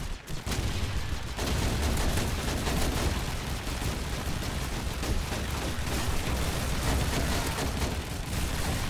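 Dense, continuous automatic gunfire in the multiplayer game Call of Duty 2, loud and close with rapid overlapping shots and explosions sustained throughout, no voices.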